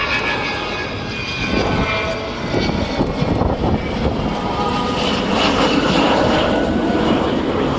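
Avro Vulcan XH558 jet bomber flying at an air show, a loud continuous engine roar that swells and rumbles steadily, with a broad hiss and no talk over it.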